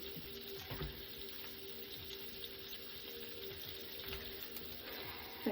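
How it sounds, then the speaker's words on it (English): Honey hits a hot pan of sesame cashew chicken with a soft, steady sizzle and faint crackle, quiet and continuous with no talking. "so you got to do it while everything's sizzling"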